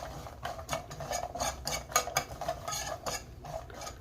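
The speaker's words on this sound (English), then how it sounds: "we're just going to coat these and saute these for a few minutes" Shrimp being sautéed and stirred in honey sauce in a pan, with repeated light scraping and clinking of a utensil over a soft sizzle, close up and with no talking.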